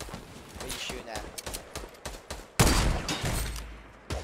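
Repeated gunfire during a video game shootout, quick percussive shots spaced through the clip and then a heavier loud burst, heard under the excited talk of players.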